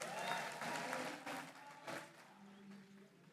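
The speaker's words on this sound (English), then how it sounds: "Let us give them a round of applause." Sustained applause from a commencement ceremony audience at USIU-Africa, a dense, even wash of clapping from a large crowd that carries on throughout.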